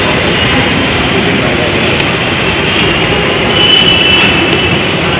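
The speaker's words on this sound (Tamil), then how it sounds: "இப்படிதான் இருக்குது மெட்ரோ எங்களுக்கு" A metro train pulling into a station, a loud, continuous rolling rumble with a brief high wheel squeal near the end, close and filling the space.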